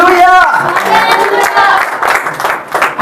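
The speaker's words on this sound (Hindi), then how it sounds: "अगर समझ में आ रहा है जोरदार ताली यीशु मसीह के लिए एक बार" Congregation at a Sunday church service clapping, a loud, dense applause with crowd noise that fills the space, with a voice heard over it.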